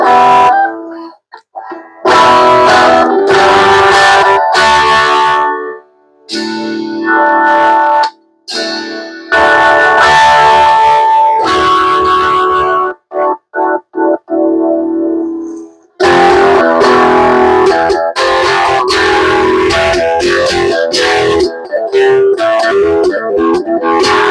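A modified Squier Custom Esquire electric guitar played through heavy effects, with chorus-like shimmer and distortion, strummed chords and sustained notes broken by short pauses.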